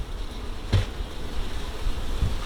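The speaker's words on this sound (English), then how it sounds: "Now there's a lot of bees inside." A dense, low buzz of many bees inside a hive during a strong honey flow hums continuously close by, with a couple of soft thumps and no voices.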